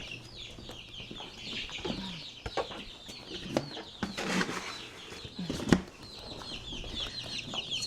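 Chickens on a farm during morning chores, with layer chicks among them, clucking and squawking in an irregular chatter, with wing flaps and a few sharper calls rising above the steady flock noise.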